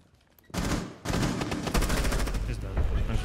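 Gunfire in the video game Rainbow Six Siege, a near burst of rapid automatic shots breaking out after a quiet start and continuing as dense, loud firing to the end.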